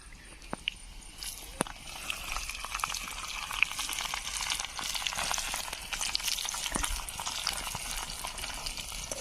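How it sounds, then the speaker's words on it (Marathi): Chopped onion sizzles steadily in hot oil in a pan while gram-leaf bhaji is cooked, with a constant crackle and a few sharp clinks of stirring. "आता टाकते याच्यामध्ये कांदा"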